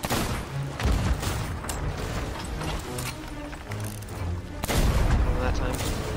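Cannons firing in a pirate ship video game aboard a sloop, with several booming blasts, the strongest near the start and just before five seconds, over busy game noise with a voice speaking.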